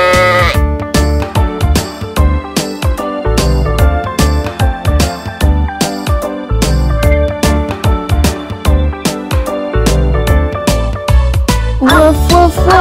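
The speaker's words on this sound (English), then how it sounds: "The sheep jump around going ba, ba, ba." Sheep bleats in a bouncy children's cartoon song about farm animals, repeated in time with a loud, punchy beat and music throughout.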